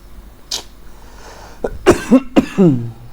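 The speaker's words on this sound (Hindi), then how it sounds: "खांसी" A single sharp cough, followed by a short throat-clearing grunt and a couple of voiced coughs close to the listener.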